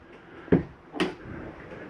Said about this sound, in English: Make sure our doors and drawers are closed.